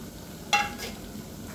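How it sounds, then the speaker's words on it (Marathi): Dry spice powders such as ground coriander are sautéed in a pan, producing a soft, steady sizzle with one sharp scrape of a spoon partway through. "सुक्या मसाल्याला आपल्याला परतून घ्यायचं आहे"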